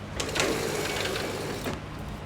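A punching machine runs while it stamps piping for a Volkswagen Beetle fender. The mechanism clatters in rapid repeated strokes that ease off briefly and then start again. The sound is close and moderately loud, and no one talks.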